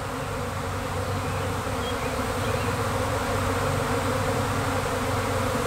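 A honey bee swarm buzzes steadily and densely close to a beehive in chilly weather, a continuous loud drone of many wings with no pauses.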